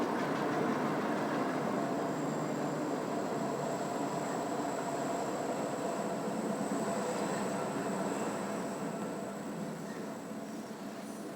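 Freight train rumbling past on a Chicago railroad line, a continuous broad roar and rolling clatter with a faint high squeal, fairly distant and gradually fading toward the end.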